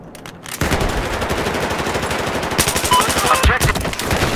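Rapid automatic gunfire from the video game Battlefield 4, a dense, loud stream of shots running almost continuously after a brief quiet start, with a few sharper bursts near the end.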